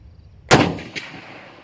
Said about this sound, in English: This is a good shooting rifle.